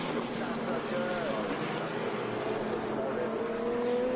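Eagle race cars with Ford engines at an exhibition race at Laguna Seca roar continuously, with shifting engine whine rising and falling as they pass, beneath a commentator talking.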